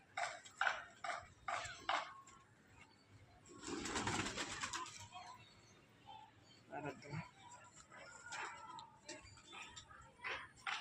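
A pigeon kept for sale coos in low, rolling phrases amid other bird sounds, with a louder rustling burst midway; the sound is faint overall.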